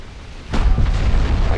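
A battleship in the naval strategy game Ultimate Admiral: Dreadnoughts takes a shell hit: a sudden heavy boom after a quiet half-second, followed by a rumbling, roaring tail with a second muffled impact.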